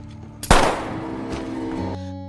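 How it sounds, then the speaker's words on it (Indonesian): A single sharp gunshot rings out in a film scene, loud and close, followed by a decaying echo over a low sustained musical drone. "Dan saat Soleh langsung ditembak koib saat itu juga."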